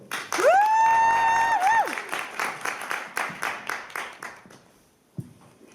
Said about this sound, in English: please give a big round of applause for Heike